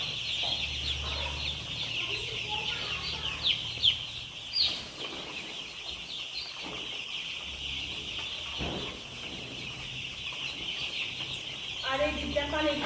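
Chickens in a brooding house clucking and calling through the whole stretch, with paper rustling nearby, brief thumps and a voice talking at moments.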